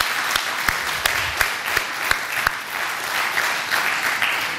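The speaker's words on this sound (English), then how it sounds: "A round of applause to every single one of our speakers." Audience applause at a business conference summit, a dense steady clapping from a crowd with a few sharp individual claps standing out, sustained at moderate loudness throughout.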